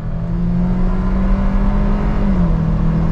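A Ford Bronco accelerates hard in second gear in manual mode, its engine drone loud and close with a steady rising hum that holds throughout, no talk over it.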